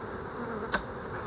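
Honey bees hum in a low, steady drone around an opened hive during an inspection, with a single sharp tap or knock midway; no voices.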